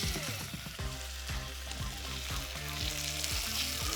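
Veal searing in oil in a hot pan, a steady close sizzle and crackle of frying with occasional stirring scrapes, no voices.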